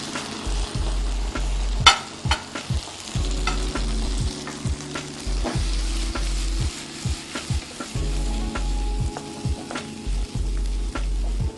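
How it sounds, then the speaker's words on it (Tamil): Roasted ground masala for Kerala varatharacha theeyal sizzles in hot oil with shallots, a steady soft frying hiss broken by regular scraping stirs of a spoon against the pan, close and alone without voices. "வறுத்து அரைச்சி வச்சுருக்க மசாலா, இந்த மசாலா வந்துட்டு போடுறோம்"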